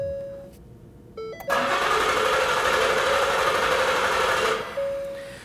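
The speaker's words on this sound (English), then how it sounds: "we're now going to hop into the vehicle, start it up, and let it run until it dies" A 2010-2019 Ford Taurus 3.5L V6 with its fuel transfer unit disconnected starts and runs with a steady, buzzing idle for about three seconds, then cuts out. Electronic chime tones sound before and after.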